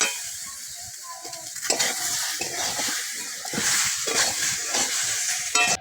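Slit green chilies and chopped ripe tomato sizzle in a pan while a spoon stirs them, bright frying hiss with repeated scraping strokes, close and fairly loud.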